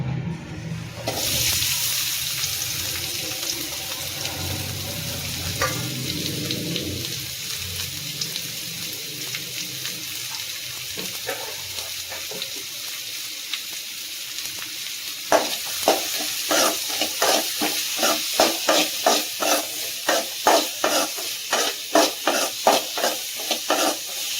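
Chopped onions frying in oil in a pan, stirred with a spoon; a steady close sizzle with scraping strokes that turn into a quick, regular run of stirring clatter toward the end.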